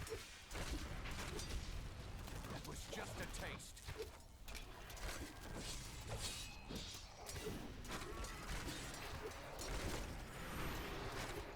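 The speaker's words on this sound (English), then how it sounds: "You really got to be careful of those explosions." Game explosions from the Diablo demon hunter action game, a busy stream of booms, crashes and clattering impacts running nearly continuously under dense combat noise, with voices mixed in.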